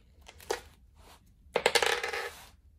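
A dollar coin drops into a money jar, with a short metallic clink, a brief rattle, and then a louder cluster of jangling, bouncing clatter that settles within about a second, close and isolated.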